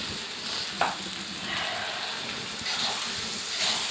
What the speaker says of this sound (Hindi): साबुत गरम मसाले ये डाल देंगे। इसको 1-2 मिनट के लिए फ्राई करेंगे।